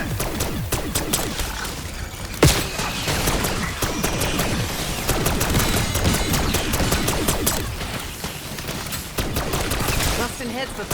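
Rapid bursts of gunfire ring out in Black Ops 6 Zombies grief mode, dense overlapping shots and automatic fire running steadily throughout, loud and close, with voices occasionally speaking amid the shooting.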